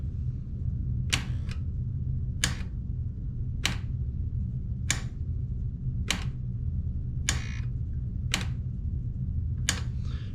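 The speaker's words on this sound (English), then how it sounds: "what you hear is actually the relay is doing that clicking action" A General Electric extra-low-voltage switching relay clicks sharply as it switches contacts, eight crisp, evenly spaced snaps roughly a second apart over a steady low electrical hum.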